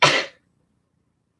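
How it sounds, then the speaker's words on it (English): A single sharp sneeze bursts out close and loud, then cuts off into near silence. "I have to sneeze"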